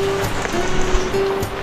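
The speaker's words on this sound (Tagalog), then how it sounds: "Umulan na ng malakas." Heavy rain pouring at Taytay Falls, a dense, steady hiss of falling water close by, with a faint tonal hum running underneath.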